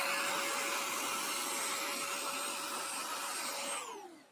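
Kenmore DS1030 cordless stick vacuum running steadily on carpet while picking up spilled flour, a loud close motor whine with a constant tone that fades as it powers down at the end.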